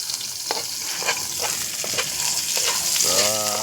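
Garlic and onions sizzle and fry steadily in a pan, a close, even crackle with occasional stirring scrapes and a brief voice near the end.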